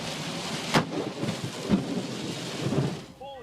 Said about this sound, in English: An unbelievable lightning strike was captured on video in Utah.